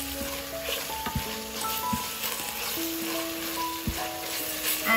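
Ginger and garlic paste sizzling with onions in a rice cooker for mushroom pulao, a steady, moderately close frying hiss with occasional stirring knocks and faint tonal background sounds.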